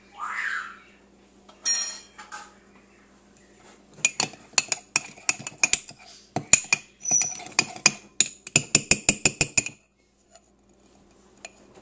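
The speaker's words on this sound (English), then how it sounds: "Then we stir in a tablespoonful of sugar until the mix is fluffy and creamy for about 30 seconds" A metal spoon clinks repeatedly against the sides of a coffee mug while stirring sugar into cake batter, with a rapid, irregular run of sharp taps at close range and no speech.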